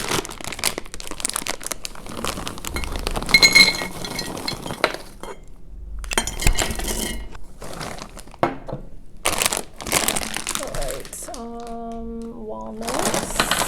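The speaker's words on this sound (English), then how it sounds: "Let's add some almonds." Almonds for homemade trail mix pour into a bowl, a loud close rattling rush in several bursts separated by short gaps, with a brief ringing clink near the end.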